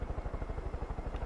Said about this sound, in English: you could just finish the entire game with this fucking chopper